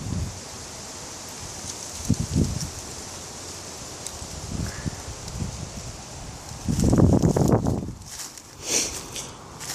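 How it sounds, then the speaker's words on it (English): Wind blowing through an Alabama cemetery, with gusts and rustling that rise and fall. The strongest, fullest gust arrives late, and lighter brushing sounds come between the gusts. No one speaks. "The wind's starting to blow and getting chilly."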